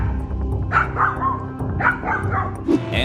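A dog barks and yips in short bursts while confronting a bear, several loud, close barks spread across a few seconds over outdoor background noise.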